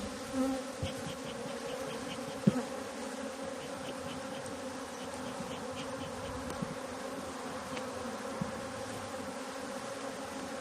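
Honeybees hum around a hive in spring, a dense steady drone that fills the whole stretch, with a few louder passes of single bees close by and no talking.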